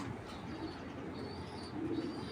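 Racing club pigeons coo softly at close range, low murmuring calls rising twice over a faint steady background, with no talking.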